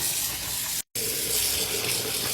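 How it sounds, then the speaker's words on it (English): Extra hot water runs from a tap into a sink for washing squishy mochi toys, a loud steady gush broken by a brief silent gap. "Turn this extra hot water on."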